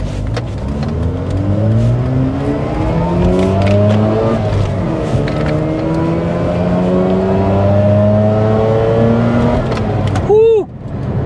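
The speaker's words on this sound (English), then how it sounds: "just see if we can spin the tires?" A 2004 Mazda RX8 with a six-speed revs hard through repeated rising engine sweeps as it tries to spin its tires, loud and close, ending in a short sharp squeal.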